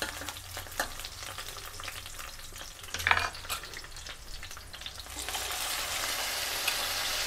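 Onions frying in a pan for a brinjal curry give a soft, steady sizzle with occasional stirring clinks and scrapes. One brief louder clatter comes midway, then the hiss grows fuller and brighter toward the end.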